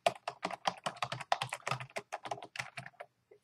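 Computer keyboard typing in a quiet room, a steady run of close, crisp keystrokes with a short pause near the end and no talking.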